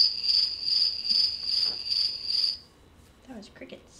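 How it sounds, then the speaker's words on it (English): Crickets chirp in a steady, pulsing trill for a few seconds, fairly loud and close, then stop abruptly, followed by a brief faint rustle. "That was crickets."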